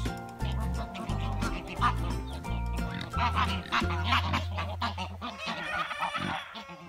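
Geese honk repeatedly and loudly up close in a pasture by a new shelter with green netting, the calls overlapping in an insistent, chattering flock rhythm that runs throughout.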